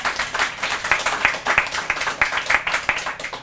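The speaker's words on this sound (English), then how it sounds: "Let's have an applause for everybody so far." Applause at a poetry night, a modest crowd clapping in a lively, uneven patter with a few sharp claps standing out, steady throughout.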